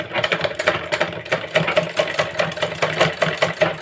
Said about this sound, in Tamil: இப்போ நம்ம இதை வந்து லாக் பண்ணி ஸ்டிச் பண்ணிக்கலாம்